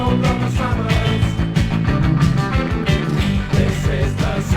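A 1979 punk song on Virgin Records plays loudly and continuously, with a driving beat, dense band instrumentation and steady strummed guitar throughout.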